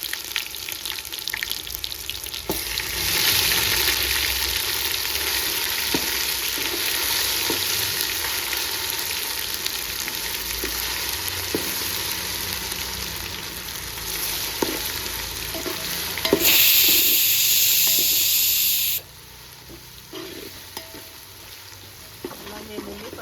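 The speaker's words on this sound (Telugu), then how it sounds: "అల్లం వెల్లుల్లి పచ్చివాసన పోయేంత వరకు బాగా ఫ్రై చేసుకోవాలి." Ginger-garlic paste frying with onions in a pan during biryani preparation, a steady loud sizzle throughout with occasional stirring scrapes and a brief brighter hiss burst near the end.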